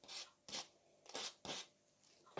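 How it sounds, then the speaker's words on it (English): Small triangular model railway roof apex pieces rubbed along their edges on sandpaper, giving four close, loud rasping strokes in a steady back-and-forth rhythm with no talk. "Just rub along the edges on a bit of sandpaper,"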